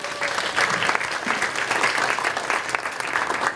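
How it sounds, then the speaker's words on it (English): Audience applause at an art criticism and rock and roll talk held in Chicago, steady dense clapping from a sizeable crowd that holds at an even level throughout. "Round of applause for that."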